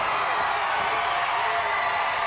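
A wrestling arena crowd cheers at a tag team title win, a steady, dense roar of many voices with whoops filling the space at an even loudness, heard from a distance.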